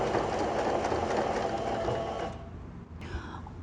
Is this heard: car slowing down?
no